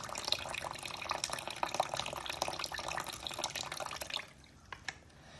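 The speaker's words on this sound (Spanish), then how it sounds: "Se puede observar cómo se filtra el agua." Water trickling and dripping through soil held in a funnel filter, a steady close patter that suddenly thins out near the end to a few separate drips.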